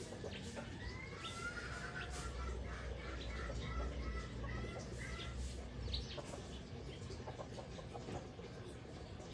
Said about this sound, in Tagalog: nandito ako sa bintana at dito ay napakaraming ibon